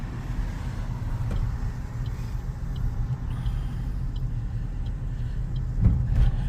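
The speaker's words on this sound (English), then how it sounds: "This is the 8:30 traffic, which is always quite busy around here" Busy morning traffic at an intersection streams past: a continuous low rumble of cars and heavier vehicles, steady and moderately loud with a few nearer passes, and no one talking.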